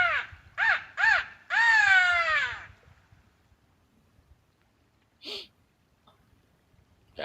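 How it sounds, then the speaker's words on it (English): A crow calling outdoors on a ranch: four loud harsh caws in quick succession, the last drawn out, then quiet with a fainter caw later and low background rumble. "That was crow call."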